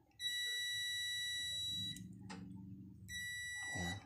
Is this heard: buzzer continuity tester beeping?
yes